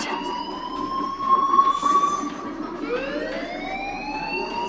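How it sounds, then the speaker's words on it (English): An in-game fire alarm in Life Is Strange wails with a steady sweeping tone that dips and rises again, loud and continuous, with no talk over it. "do you hear that fire alarm? That means you should be outside."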